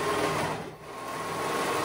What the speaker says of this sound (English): let's go ahead and sew those sides